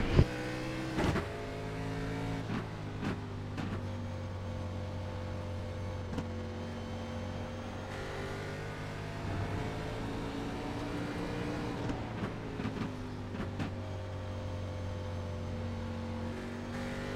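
Onboard engine of a Northwest Xfinity Series stock car at Canadian Tire Motorsport Park, driven hard for one lap: a steady, loud droning engine note with rising and falling pitch through gear changes and corners, continuous with no talk.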